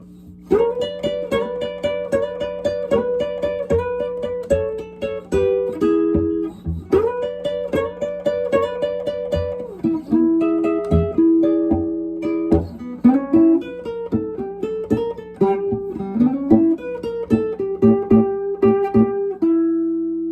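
Electric guitar playing a Chicago blues figure at a slowed tempo, with steady picked notes and repeating phrases ringing out alone and fairly loud.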